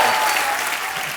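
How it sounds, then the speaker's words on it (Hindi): Studio audience applause on The Kapil Sharma Show, a Hindi TV comedy program, greeting a guest. It is a dense, steady wash of clapping with no speech, fading slightly near the end. "नवराज के लिए जोरदार तालियां"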